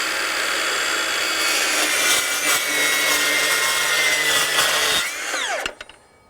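A Milwaukee M18 FUEL cordless 8-inch metal cutting circular saw (model 2982-20) cuts through 1/4-inch metal with a loud, close, sustained high-pitched grinding whine, then winds down as the blade spins to a stop.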